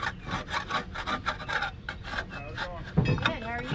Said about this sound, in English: That just that ice scraper right there.